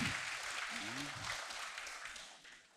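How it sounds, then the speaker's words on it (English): Applause from an audience at a meditation talk, a brief dense patter of clapping that fades out over a few seconds, with a voice speaking briefly over the start. "Big clap for her."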